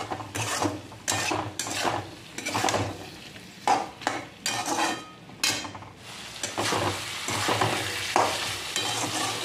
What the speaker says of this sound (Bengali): তো এখান থেকে কিন্তু সবজিটা কষা শুরু হয়ে গেল।